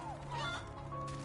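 Chickens clucking in the MediEvil video game, a brief close burst of fowl calls over a steady low in-game hum.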